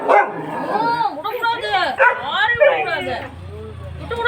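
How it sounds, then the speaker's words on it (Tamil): Puppies bark and yip excitedly in a village home setting, a rapid flurry of high-pitched barks and whimpers up close, mixed with people talking. "கடிச்சுடும் பாரு நாய்க்குட்டிங்க விடக்கூடாது விடக்கூடாது"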